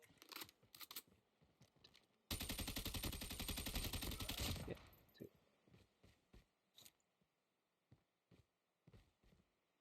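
Gunfire in the mobile shooter Call of Duty: Mobile, a sustained loud burst of rapid automatic fire lasting about two seconds, surrounded by scattered single shots and clicks from the match.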